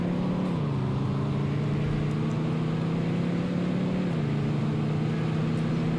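Steady engine drone of a convertible car driven in first person in Roblox Greenville, holding a constant pitch that steps down twice as gears change, with no talking.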